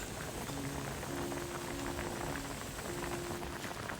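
A pot of flounder and mugwort soup bubbles at a steady gentle boil, a soft continuous hiss and patter of bursting bubbles, quiet and close.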